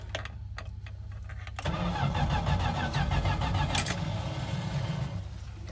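A manual-transmission car engine cranks and fires in a cold start at -15°F, with a short cranking sound followed by a rough, loud, close idle that runs steadily to the end.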